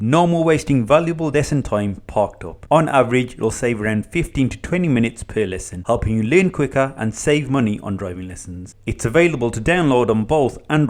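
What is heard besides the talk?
None of the usual background noises is heard.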